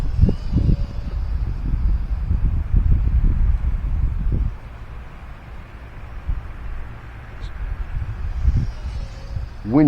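Strong gusty wind on a windy day of about 10+ mph while flying, buffeting a nearby microphone with heavy low rumbling bursts that ease off midway, then build again toward the end.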